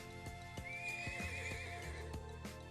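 A horse neighs in a long, shaky whinny in the game Trails of Cold Steel, set over rhythmic hoof clip-clops and a soft musical background.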